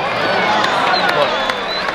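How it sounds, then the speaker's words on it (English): Large crowd at Angels Stadium during a Yankees baseball game, a loud continuous roar of cheering and shouting voices filling the stands for a couple of seconds. "The crowd's getting into it."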